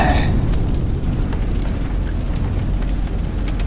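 A bomb blast in a Portuguese-dubbed Avengers Infinity War motion comic, a loud sustained roaring rumble heavy in low end that holds steady without fading, no voices over it.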